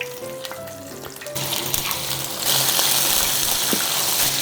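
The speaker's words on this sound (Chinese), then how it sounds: "锅里倒入一点底油，这个油温稍微让它热一下。 再放入前面这个沾好淀粉的苦瓜" Starch-coated bitter melon pieces dropped into a pan of shallow hot oil, a few clicks giving way to a sizzle that swells and then holds loud and steady, close by.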